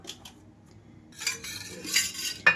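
A pan is set on a stove while cooking flax seed chili powder. Brief metallic clinks and scraping rattles sound close by in quiet surroundings, with a sharper clank at the end.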